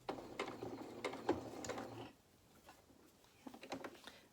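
A sewing machine runs in short bursts of rapid mechanical stitching as it sews topstitching across the top of a jeans pocket, then pauses briefly before a few more quick stitches, all fairly quiet.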